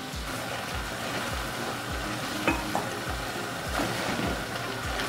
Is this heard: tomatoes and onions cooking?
yes